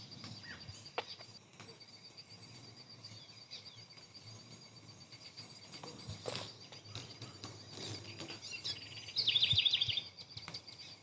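Birds call and chirp in an Andean cloud forest near a waterfall, with scattered faint calls over a steady background and one louder, busier burst of song near the end. No one speaks.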